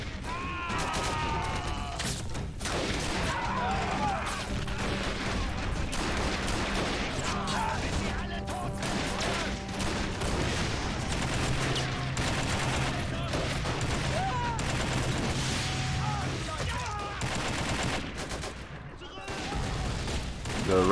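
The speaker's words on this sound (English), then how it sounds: "if you watch a group of men explode, it's because of artillery, which is firing into the arena" Dense, continuous battle din from an Army Men plastic-soldier capture-the-flag arena game: rapid overlapping gunfire bursts and crashing artillery explosions, loud and unbroken throughout.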